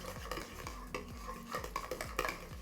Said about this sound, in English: And then we are going to mix all of these ingredients together